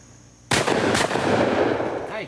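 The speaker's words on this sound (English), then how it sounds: "Nice shot, Bert." A single loud shotgun blast fires at a sporting clays target outdoors, close and sharp with a booming decay that rolls away over a couple of seconds.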